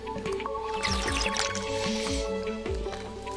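Someone drinking water, with wet gulping and swallowing sounds repeating in a loose rhythm, close and fairly loud, over soft background game music.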